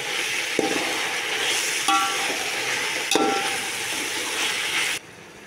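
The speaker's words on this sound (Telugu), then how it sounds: "ఇప్పుడు గోంగూర మొత్తం మిక్స్ చేద్దాం." Gongura (sorrel leaves) are stirred in a frying pan, a steady sizzle with a few sharp scrapes of the spoon against the pan before the sound cuts off abruptly near the end.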